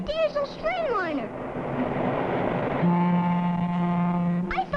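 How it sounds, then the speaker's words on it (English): A diesel streamliner train sounds its horn in sustained chords over a rising rumble of rolling wheels. The horn tones shift partway through, and a voice briefly breaks in at the end. "What was that? A diesel streamliner."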